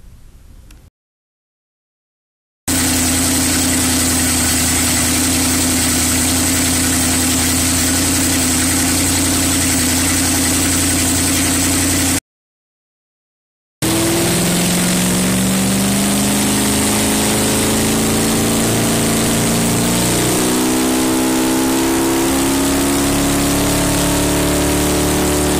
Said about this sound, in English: This dyno run is from our 93 Baja 32 Magnum.